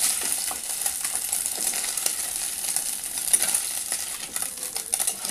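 Kachki fish frying in hot oil in a wok, with a steady bright sizzle throughout, close up and fairly loud, broken by light scraping clinks of a spatula or utensil against the pan.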